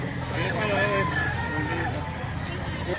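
A white-legged rooster at a fowl sale in Batangas crows nearby, its drawn-out call rising over a steady background hum while people talk.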